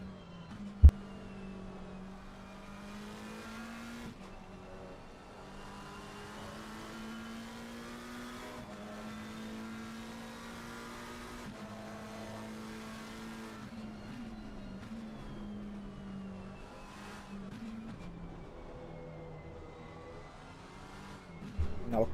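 A GT3 race car in a racing game runs an out lap at Paul Ricard, its engine droning steadily and faintly while rising and falling in pitch through gear changes, with no talk.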